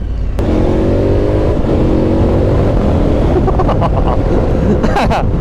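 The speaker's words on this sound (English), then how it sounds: "Oh, I love this motorcycle. I love my KTM." A KTM adventure motorcycle engine runs loud and close, holding a strong drone with rising revs and a few sharp bursts near the end, with no speech over it.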